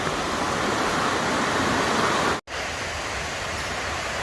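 Thru River rushing beneath a shaky suspension bridge on the Appalachian Trail, a loud steady wash of flowing water heard close by, briefly cut out for a moment midway.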